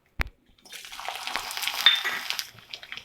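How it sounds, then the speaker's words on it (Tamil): Vadagam dropped into hot oil for tempering gives a sharp clunk, then a crackling sizzle that swells and fades over a couple of seconds. "வடகம் தாளிச்சிடலாம்."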